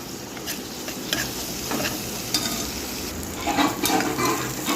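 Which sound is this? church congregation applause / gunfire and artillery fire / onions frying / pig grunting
onions frying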